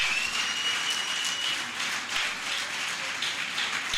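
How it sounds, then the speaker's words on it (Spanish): Church congregation applauding during a worship service, loud sustained dense clapping filling the room without letup. "Dale un aplauso al Señor"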